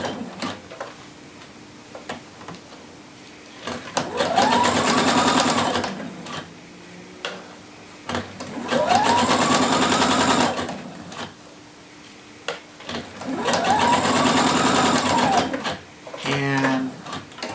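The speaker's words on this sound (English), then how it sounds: "I'm going to baste this at 3/8 from the raw edge using a machine stitch at a long length." Home sewing machine running a long basting stitch around a shirt sleeve band, three separate whirring bursts of rapid needle clatter a few seconds each, separated by quieter pauses with small handling clicks, close up.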